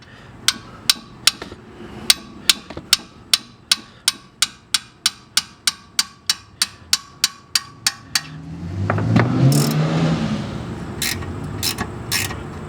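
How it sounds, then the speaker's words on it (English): A hammer strikes a long brake bolt to break it free on a 2006-2012 Ford Fusion, Lincoln Zephyr/MKZ or Mercury Milan. About twenty sharp, evenly spaced metallic blows ring out loud and close, then give way to a rougher clattering rustle. "I'm going to take a hammer"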